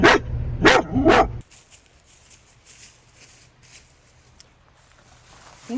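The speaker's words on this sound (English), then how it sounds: "Fuzzy, those are land doggos." Several dogs bark in quick succession at a campsite, three loud close barks in the first second and a half, then only faint outdoor background.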